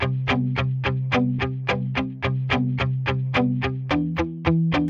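Chord-generated MIDI guitar played through a Neural DSP Tone King Imperial amp plugin gives a steady series of about sixteen strummed or plucked chords in an even rhythm. Each one is bright and slightly overdriven, with no voices.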